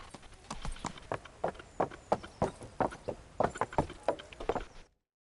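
Horse hooves clopping in the video game Kingdom Come: Deliverance, a steady rhythmic run of fairly quiet hoof beats on firm ground that carries on for about five seconds and then cuts off abruptly.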